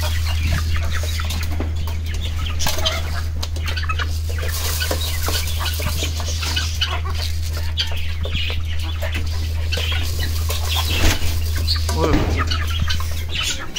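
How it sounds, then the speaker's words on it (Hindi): Backyard chickens gather at feeding time, a scatter of soft clucks and chirps over a steady low hum and background noise, with no talking. "फिर देखें मुर्गियां हमारी आ गई हैं खाना खाने के लिए।"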